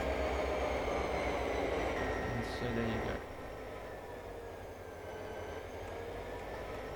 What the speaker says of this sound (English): we're going to change tracks and terminate this train on the other platform